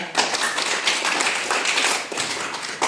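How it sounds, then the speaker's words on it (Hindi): Students at an Urdu school awards event get a round of clapping from the audience, a dense, steady patter of many hands lasting a few seconds without speech. "चलो तालियां"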